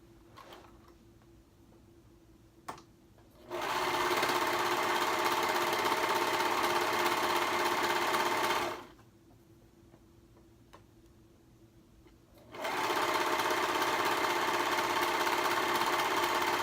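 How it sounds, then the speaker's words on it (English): A serger joins two hoodie pieces in two sustained close-up runs of rapid mechanical whirring, the second starting after a few seconds of quiet, with faint ticks between them and no voices. "now I'm going to go ahead and serge those two together"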